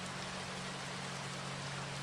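Soft, steady rain hisses evenly and faintly throughout, a constant wash of patter with no voices.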